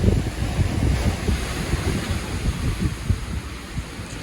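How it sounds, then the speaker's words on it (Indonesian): Ocean waves roar and wash continuously, with deep rumbling surges and a rushing, wind-blown quality throughout. "Lagi gede ombaknya"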